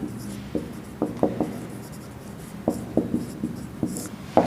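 Chalk or marker writing a chemistry definition on a classroom board, giving irregular taps and short scratchy strokes in quick clusters, close and fairly clear with no talking.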